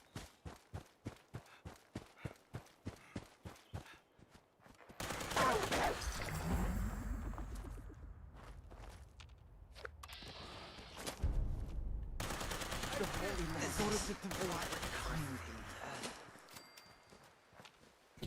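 Tesla rifle fire in Fallout 76: a run of evenly spaced sharp clicks, then loud crackling energy bursts that come in two waves with a quieter gap between them.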